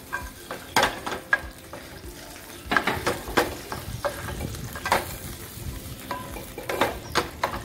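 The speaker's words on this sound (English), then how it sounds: "I am just taking a little bit of ghee first of all, and putting up this cashew nuts here so that I can fry the cashew nuts." Cashew nuts frying in ghee, with a spoon stirring and scraping the pan in irregular clicks and knocks over a low, steady sizzle, close by and without talk.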